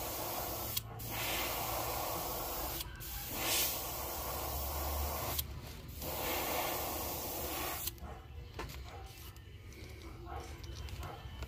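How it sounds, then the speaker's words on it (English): Short hissing bursts of white spray paint onto a fishing lure, several in a row with pauses, then a longer quieter spray at the end. "just spray that white over it at an angle"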